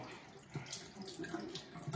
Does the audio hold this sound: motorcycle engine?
no